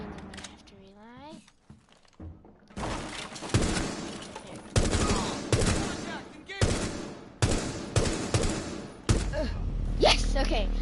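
Bursts of gunfire in Rainbow Six Siege, several loud rapid volleys with sharp sudden onsets, interrupted by short gaps and mixed with game sounds.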